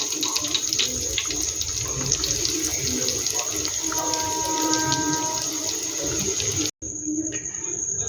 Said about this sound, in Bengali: এই বাকিগুলো একইভাবে আমি ভেজে নেব।